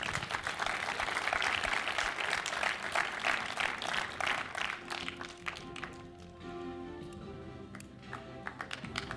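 Audience clapping at a short film festival closing ceremony, dense and sustained at first, then thinning into scattered claps as a voice speaks over a sound system.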